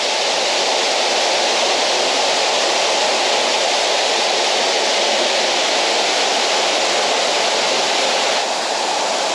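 Waterfall with cooling water-mist spray in a Japanese garden in Crimea, a loud, dense, unbroken hiss and roar of falling water that stays even from start to finish, with no voices.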